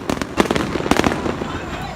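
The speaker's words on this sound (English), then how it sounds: "The pop of fireworks signaling celebration." Fireworks at a July celebration pop and crackle in rapid, irregular bursts close by, with a few sharper bangs standing out and voices heard among them.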